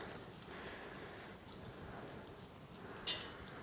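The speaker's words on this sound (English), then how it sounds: "it's raining here in Darwin today" Steady rain falls in Darwin, a faint, even hiss of drops pattering on surfaces with no break, heard from close by with one brief tap near the end.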